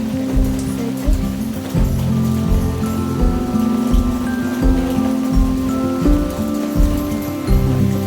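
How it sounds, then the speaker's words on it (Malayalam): Steady, dense rainfall with a constant watery wash, accompanied by low rhythmic thumping and tonal hum underneath. "നല്ല മഴയുണ്ട്."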